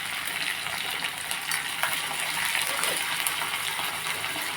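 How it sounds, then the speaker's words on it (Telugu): Mustard seeds, cumin, curry leaves and green chillies sizzle steadily in hot oil, a dense bright crackle with small pops throughout, close and unbroken with no voice over it. "ఇదిగోండి ఆయిల్ పెట్టాను. కొంచెం ఆవాలు, జీలకర్ర, కరివేపాకు,"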